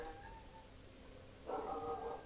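A dog vocalizes in the distance, a faint, drawn-out whining bark that swells after a quiet stretch and holds for about a second under low background hum.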